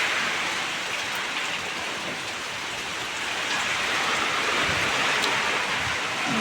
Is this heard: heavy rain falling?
yes